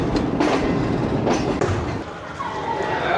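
The Pak Business Express passenger train rolls through the yard into Rohri Junction, its wheels rumbling and clattering over track joints. Irregular metallic clacks ring out over a continuous close rolling roar, and a faint wheel squeal rises near the end.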